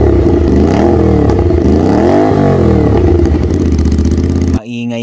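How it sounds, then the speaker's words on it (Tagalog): A big-bike motorcycle fitted with a 51mm universal Shorty Edition canister muffler revs loudly up and down close by, its raspy exhaust note swelling and easing before cutting off abruptly near the end. "Maingay nga talaga ang Shorty Edition muffler na to."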